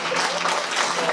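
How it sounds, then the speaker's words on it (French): A church congregation applauds and cheers together, a dense, steady wash of clapping with a crowd murmur mixed in, sustained and fairly loud throughout the short stretch. "On acclame Dieu pour ça."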